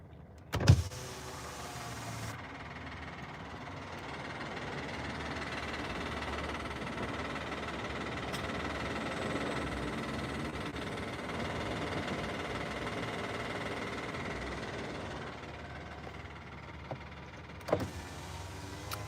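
A van engine runs and struggles with a low, rough continuous rumble and rattle inside the cabin, fairly faint, with a couple of sharp knocks near the start and end.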